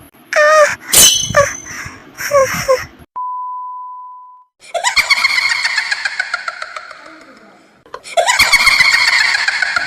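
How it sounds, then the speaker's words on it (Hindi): Someone screams in loud, high-pitched, sustained bursts: two long wavering screams follow a few short vocal cries and a steady electronic beep tone. "ये तो ठीक चिल्लाने की आवाज है ना?"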